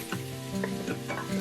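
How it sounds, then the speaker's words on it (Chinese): Blanched beef stir-fries in an Instant Pot on its sauté setting, hot oil sizzling steadily while the meat is turned and stirred in repeated soft scraping bursts, close and alone. "油热后加入焯好的牛肉，翻炒几分钟，炒干牛肉表面的水分"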